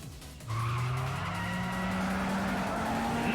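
A car drifts with a long, loud tire squeal in the video game Yakuza 5 Remastered, the screech starting abruptly and holding steady over engine roar to the end.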